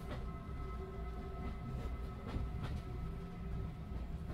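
Train in The Room 3 video game, a low steady rumble of rolling railcars with faint rhythmic clacks and a tonal hum, fairly quiet throughout.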